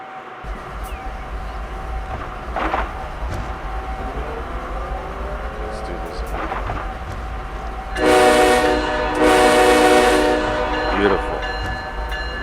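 A BNSF ES44AC diesel locomotive in Train Simulator 2 idles with a steady low engine drone and faint clanks, then sounds its horn in two loud, close, sustained blasts.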